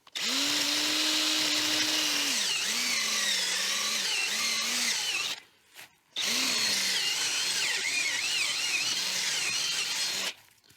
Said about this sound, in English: I've used multiple bits, different sizes, to get as many holes drilled into that